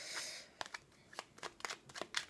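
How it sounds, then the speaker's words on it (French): An oracle card is drawn from a deck: soft papery shuffling and a few sharp card flicks, quiet and close, with no talking. "Allez, je vais prendre une petite carte."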